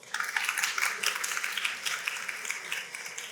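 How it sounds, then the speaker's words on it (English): Audience at an SEO and AI panel discussion gives the two panelists a round of applause, dense close clapping that swells and carries steadily to the end. "Let's give Neil and Josh a round of applause"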